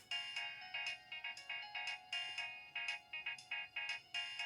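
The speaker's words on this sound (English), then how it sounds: "I have another different phone that has this ringtone." A Nokia 2600 mobile phone plays a shrill, piercing polyphonic ringtone, a rapid chain of bright electronic notes in a bouncy repeating rhythm, heard up close and alone.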